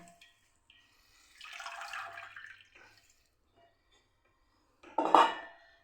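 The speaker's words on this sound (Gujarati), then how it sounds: "તો અહીં આપણે એકદમ નેપકિનને નીચવી નાખ્યું છે" A wet napkin soaked in water is wrung out by hand in a kitchen, giving short bursts of dripping and splattering water, one longer trickle and a sharp splash near the end, separated by quiet.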